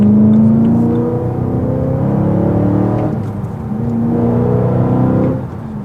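A BMW E92 M3 with an aftermarket exhaust, heard from inside the car, gives a steady, fairly loud engine drone that rises and falls through a couple of gentle rev swells before easing off at the end.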